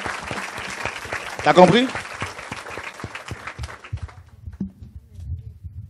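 Audience in a church gathering clapping in a brief burst that peaks and then thins out to scattered claps, with a voice speaking over it.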